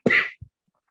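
One sharp, close cough bursts out and is followed by a brief, softer throat sound, then silence.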